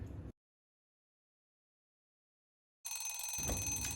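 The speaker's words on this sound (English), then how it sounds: "Setting my teapot timer, set it for 20 minutes" A teapot-shaped kitchen timer, set for twenty minutes while a cake bakes, rings out in a loud, rattling burst near the end after a long stretch of silence.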